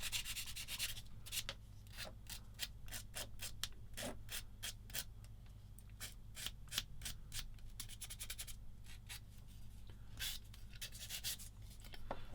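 Sanding or rubbing down a part on a Tamiya 1/35 SdKfz 222 model kit, in quick repeated strokes at a steady rhythm, close and quiet with no voices.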